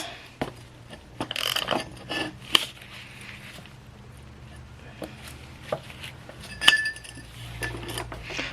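A pipe extender is cranked down on custom exhaust pipe for a 1966 inline-six Mustang, giving sparse metallic clinks and clunks with quiet gaps between them and no talk.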